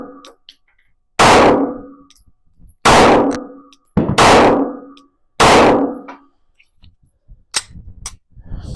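Rifle shots striking steel targets at a range, five loud sharp cracks with ringing decays spaced about a second and a half apart, followed by softer clicks and handling noise.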